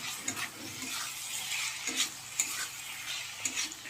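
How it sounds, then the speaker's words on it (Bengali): Ginger, garlic, onion and tomato masala fries in a pan with a constant sizzle, while a utensil stirs and scrapes in repeated clicks and knocks, close and steady with no talking. "আদা রসুন পেঁয়াজ টমেটো একটু ভালো করে ফ্রাই করে নিয়ে একটু লবণ দিয়ে দেবো"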